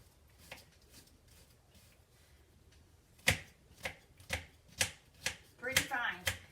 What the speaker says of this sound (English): I'm going to cut up me some onion.